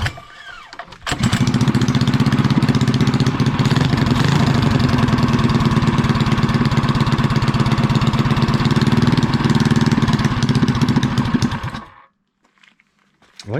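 A 212cc mini chopper engine catches after a pull start and runs loud and steady for about ten seconds, its throttle worked with the choke on, then cuts off abruptly into near silence.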